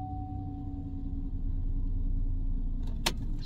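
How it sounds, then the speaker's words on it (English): A 2014 GM truck with multiple electrical faults and a dash that cuts out cranks over. A steady low engine rumble runs throughout, a faint whine fades early, and a sharp brief click lands near the end, with no talking. "Let's see what happens when we're cranking it."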